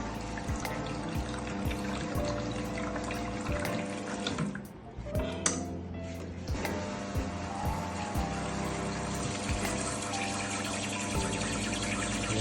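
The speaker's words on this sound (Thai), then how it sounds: "ตอนนี้ตัวปริมาณน้ำก็ออกมาปกติ แรงดันปกติแล้ว" Water runs steadily from a repaired La Marzocco Linea Mini espresso machine after a fix for low pressure and weak flow, a continuous close pour with a brief dip partway through.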